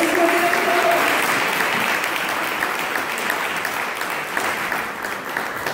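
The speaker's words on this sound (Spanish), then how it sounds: "Pues un aplauso para todos ustedes." A prayer group applauds loudly and continuously, a dense wash of many hands that stays full for about six seconds, with a brief voice or tone near the start.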